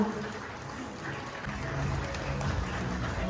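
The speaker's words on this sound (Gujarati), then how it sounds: "તાળીઓના ગરનારથી આપણે સ્વાગત કરીએ" An audience at a Koli community ceremony honouring students and new doctors in Diu claps steadily in welcome, a continuous mid-distance patter of many hands that swells slightly toward the end, with voices in the background.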